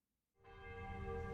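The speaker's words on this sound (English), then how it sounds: "wedding bells ring as the most infamous couple of St. Petersburg marry" Wedding church bells in St. Petersburg ring out after a moment of near silence, one sustained bright tone that swells quickly and hangs on, steady and resonant.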